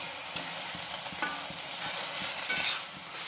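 Wheat-flour dough stirred and roasted in ghee in a pan for pumpkin bonde, a soft steady sizzle under repeated scraping strokes of the spoon, close and without talk.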